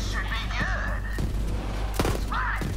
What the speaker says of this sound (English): I'll just throw my nades at ya.